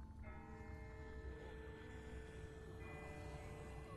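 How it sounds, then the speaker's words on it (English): A church bell tolls far off in The Walking Dead video game, a faint sustained ring with lingering overtones that swell and fade over a low rumbling background, with no voices. "That's not the same bell as before. This one's further off."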